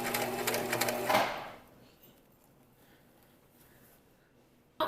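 A sewing machine runs in a rapid mechanical burst for about a second, then stops, leaving near silence with a faint click at the end.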